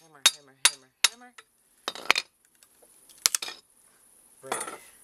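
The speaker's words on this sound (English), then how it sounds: "I'm just going to put the crowbar underneath the wood, hammer it underneath it, and take it off." A steel crowbar hammered under pallet wood while taking a pallet apart for a compost bin: several sharp metallic strikes in a loose series, close and loud, with quiet gaps and a scraping rattle at the end.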